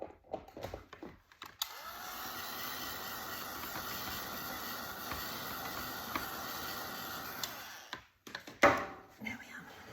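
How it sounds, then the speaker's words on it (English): Heat gun blowing to dry a damp stencilled card, a steady airy whir and hiss running for about six seconds between light handling knocks, fairly faint. "I think I'll give that a little blast with my heat gun just to dry it off fully"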